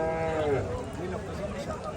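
A cow for Qurbani at a cattle market on a Sherpur ferry ghat gives a single close, loud moo at the start amid market noise.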